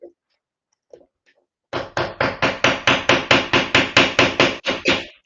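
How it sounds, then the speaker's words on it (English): A hammer is driven into a wall with about fourteen sharp, loud, evenly spaced blows in a fast steady rhythm, preceded by a few faint knocks. "Kind of just hammering it in there to get"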